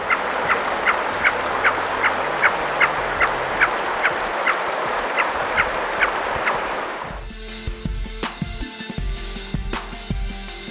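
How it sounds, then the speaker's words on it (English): Small mountain birds resembling grouse or partridge call along a high Himalayan trekking route near the Cho La Pass, giving a steady run of repeated clucking notes over loud wind noise before the sound shifts to rustling handling noise. "these like little mountain birds that they look kind of like a grouse or a partridge"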